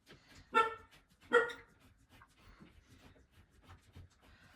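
A dog indoors gives two sharp, fairly loud barks about a second apart, then only faint room noise follows.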